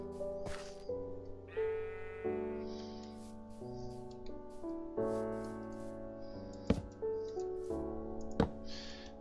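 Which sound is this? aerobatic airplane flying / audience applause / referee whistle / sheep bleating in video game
sheep bleating in video game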